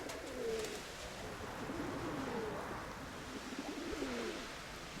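A wild pigeon, newly landed near a dovecote, coos in soft repeated low phrases, moderately close against a steady outdoor background hiss, with no voices.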